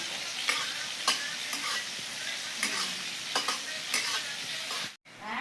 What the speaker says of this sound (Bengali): শুকনো লঙ্কাটা ভাজা ভাজা হয়ে গেছে